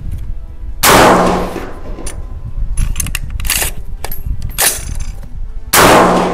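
AR-15 Iron City rifle chambered in .223 Wylde firing at a 100-meter target: two loud, sharp shots, the first near the start and the second near the end, each ringing out over outdoor background noise with some faint clanks in between.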